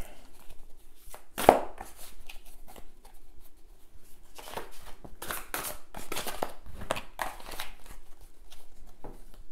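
Tarot cards being shuffled by hand, a run of soft papery riffles and slaps in irregular bursts, close and fairly quiet, with no talking.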